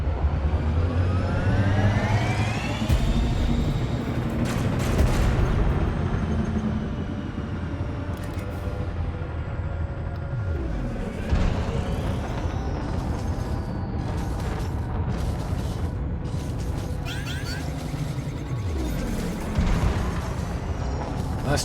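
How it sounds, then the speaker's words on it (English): Cannon shells fire repeatedly from an Imperial Cutter ship in Elite: Dangerous, blasts and mechanical thumps layered over engine drone and booms, with shifting whooshes across a long continuous stretch. "But I am happy to kind of just pepper it with cannon shells."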